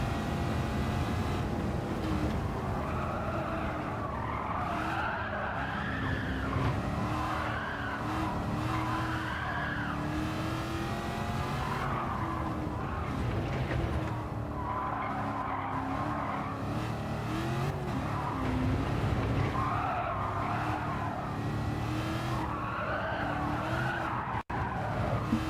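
Race cars in Gran Turismo 7 skid with long, continuous tire squeals and wavering screeches over steady engine roar, loud and sustained throughout, with no talk.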